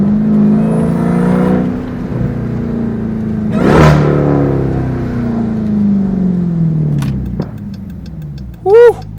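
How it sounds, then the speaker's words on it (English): A Dodge Durango Hellcat revs from inside the cabin with the window cracked, engine tone rising and falling with supercharger whine, a sharp exhaust crack midway and a few pops near the end. "With the pops and bangs, this exhaust, whatever exhaust setup he has on here, is killer."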